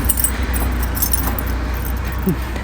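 A bunch of keys jangles close by in a home setting, a continuous metallic rattle over a low rumbling background, fairly loud with no clear speech.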